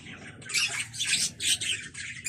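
Young African lovebirds squawk in a run of harsh, overlapping calls, close and fairly loud, with no talking over them.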